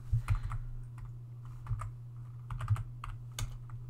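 Fingers typing on a computer keyboard during a programming lecture on character arrays, a steady run of light key clicks with a few louder taps, close and alone over a low hum.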